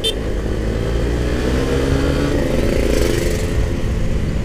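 A Suzuki GSX-R150 motorcycle engine held at fairly high revs during a ride, a steady loud drone with wind rush throughout and no talking.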